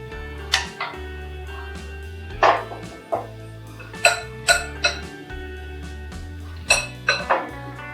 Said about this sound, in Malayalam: ഇത് നമുക്കൊരു ബൗളിലേക്ക് മാറ്റാം